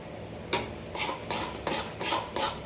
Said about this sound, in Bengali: এই সময় একদম খুঁটিটা সবসময় নাড়তে হয় নাহলে নিচে লেগে যাওয়ার ভয় থাকে